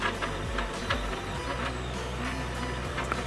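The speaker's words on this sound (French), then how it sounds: "Même en la faisant descendre en vitesse, il y a quand même un gros bruit." An MP Mini Delta 3D printer runs noisily nearby, with a steady motor drone broken by repeated rattling clicks and knocks from its loose frame.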